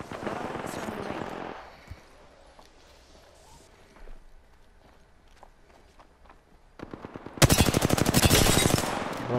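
In the video game Apex Legends, rapid automatic gunfire from a Gold Alternator bursts loudly near the end. Earlier come quicker shots and footsteps-like clatter, with quiet gameplay sounds and some speech in between.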